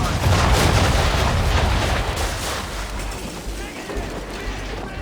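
Naval cannon fire aboard a sailing warship in the game Assassin's Creed III: heavy, rumbling booms roll into a sustained thunderous roar with debris and wash, loud and close, then slowly fade.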